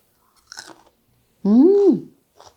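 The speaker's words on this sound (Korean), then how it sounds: "아삭아삭한 소리 들리시죠?" A short, crisp crunch of biting into pickled garlic, followed by a voiced hum of approval and a faint final crunch.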